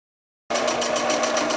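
After a brief silence, a sewing machine starts up and runs steadily while back stitching the end of a chenille scarf, with a close, even pulsing hum.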